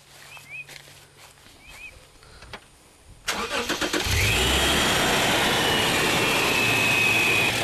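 A supercharged V6 in a Toyota Hilux cranks and fires after about three seconds of quiet outdoor ambience with birdsong, then settles into a steady, loud, close idle that continues to the end.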